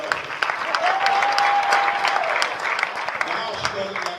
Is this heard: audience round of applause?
yes